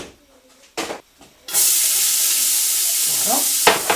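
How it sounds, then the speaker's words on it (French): Small onions dropped into hot oil in a pot for Tunisian couscous: after a few quiet clanks, a loud, steady hiss of frying bursts in and sizzles continuously, with a spoon scraping through it. "On va pouvoir ajouter nos petits oignons. On va les faire revenir tranquillement."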